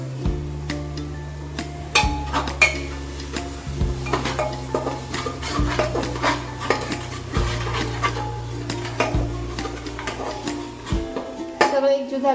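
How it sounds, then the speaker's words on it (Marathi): A spoon stirs spices frying in oil in a pan for a Marathi green-pea curry, scraping and clinking against the metal in repeated strokes. A faint sizzle and a steady low hum from the stove run underneath. "मसाले चांगले तेलामध्ये परतून घ्यायचे."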